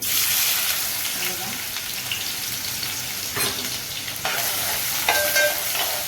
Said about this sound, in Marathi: हा बघा तेल टाकलं आता कांदा टाकूया